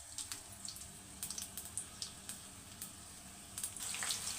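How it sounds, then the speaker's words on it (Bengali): Chopped onion and green chilli sizzle in hot oil in a kadhai, a soft continuous crackle with scattered sharp pops, quiet and close with no talking. "প্রথমে কড়াইতে তেল গরম করে পেঁয়াজ কুচি আর কাঁচামরিচ কুচি দিয়ে দিব"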